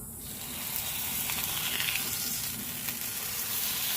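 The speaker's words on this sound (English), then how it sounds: "the first thing we are going to throw on is the bacon" Bacon hits a preheated grill and starts to sizzle, a bright, steady hiss that swells after a quiet first moment and continues evenly at close range without speech.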